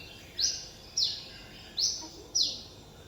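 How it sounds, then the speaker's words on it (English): Brown-throated sunbird giving its distinctive two-part morning call, four clear, high, sharp phrases repeated at roughly even intervals, fairly close, over a quiet background. "Almost every morning, you would be able to hear this bird giving its very distinctive 水饺 call."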